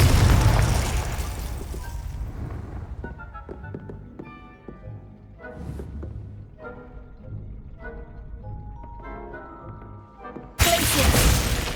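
A Confringo explosion spell in Hogwarts Legacy bursts loudly at the start, then debris and ringing tones scatter and fade before a second loud blast cuts in near the end.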